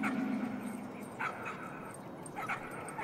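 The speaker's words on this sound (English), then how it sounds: "Oh, hello puppies." Puppies in the VR game Jopo Saves the Universe bark and yip in short bursts over a steady game background, with a brief whimper-like tone at the start.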